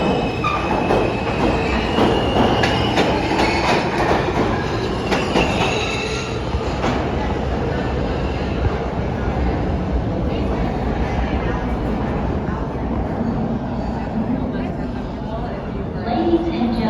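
A New York City subway L train on the BMT Canarsie Line rumbles loudly along the rails with a steady roar, metallic squeals and clatter, close and continuous throughout.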